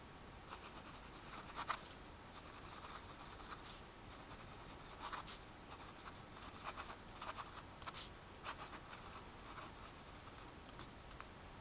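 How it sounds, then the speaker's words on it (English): A Jinhao X750 fountain pen, used unposted, scratches softly across paper in short bursts of strokes with brief pauses, quiet and close. "I'm just gonna write with this unposted,"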